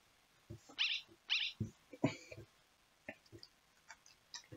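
A cartoonish dog in a dog-petting video game gives several quick, high yips and barks, spaced irregularly among soft clicks and other game sounds.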